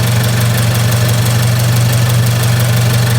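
A Toyota GR86 engine idles steadily with a low, even hum and faint ticking under the open hood, close and constant with no talking.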